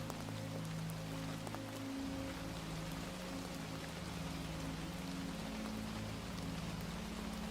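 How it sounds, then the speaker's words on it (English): Steady rain falls on a cabin, a dense even hiss with a low rumble beneath and no voices. "the rain settles into a rhythm that fills the cabin with a sound so familiar"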